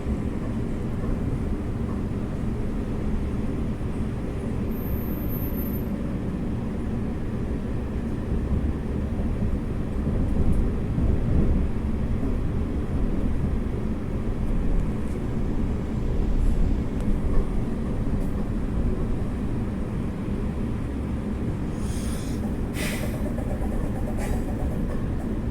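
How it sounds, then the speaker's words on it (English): A train creeps slowly along the Perth line toward High Wycombe, giving a low, steady engine and rolling rumble that swells gently midway, with a few brief higher squeals near the end. "now the train's on its way to High Wycombe."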